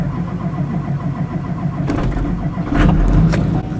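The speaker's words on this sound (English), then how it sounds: "Did you hear this Duramax cranking?" A lifted 2018 Duramax diesel truck cold-starts at about 15 degrees, steady cranking that catches into a rough, loud diesel rumble, close by with no talk.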